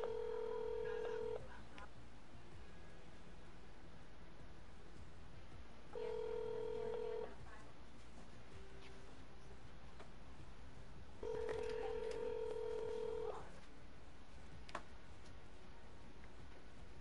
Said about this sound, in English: I'll call your phone right now.